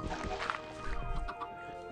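Chickens cluck in a TerraFarmaCraft Minecraft modpack farm, a few short game-sound clucks over a faint steady hum of background music, with no talking.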